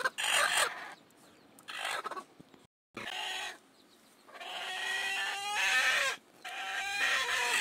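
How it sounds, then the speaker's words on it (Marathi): A gavrani country hen that has just hatched chicks clucks on a farm in bursts of loud, close, throaty calls separated by short pauses, with other fowl faintly audible. "आता हे जे कोंबडी आहे मित्रांनो, हे पिल्ले फोडलेली कोंबडी आहे."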